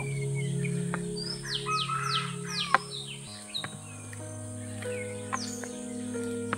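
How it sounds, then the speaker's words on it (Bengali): Wild jungle fowl and other birds call in the quiet forest on the Parasnath hill trek in Jharkhand, with a burst of rapid chirps early on, then scattered calls at moderate distance over a steady low hum. "বন্য মুরগিগুলো ডাকছে"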